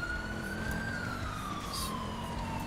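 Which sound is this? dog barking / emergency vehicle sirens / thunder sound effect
emergency vehicle sirens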